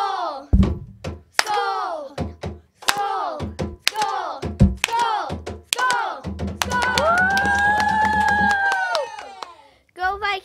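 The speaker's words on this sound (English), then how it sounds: "The school chant sounds like this." A school chant in a gym: rhythmic group shouting punctuated by sharp claps and stomps, then a sustained unison cry over a drumbeat, loud and echoing with crowd noise.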